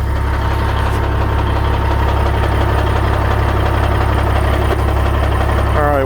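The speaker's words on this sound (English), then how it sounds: "All right, winch in." A Harbor Freight APEX Badland 12k winch on a Ford Tremor Super Duty pulls in its cable over the loud, steady drone of the truck's idling diesel engine, with a faint whine rising near the end.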